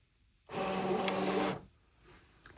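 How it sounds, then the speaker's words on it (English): A Brother ScanNCut SDX325 cutting machine draws in its cutting mat automatically, giving about a second of steady mechanical whirring and feeding noise, then a faint hum afterward. "I will click this button to load the mat into the machine. It loads automatically once you press that button."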